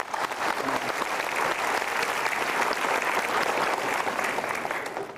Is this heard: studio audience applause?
yes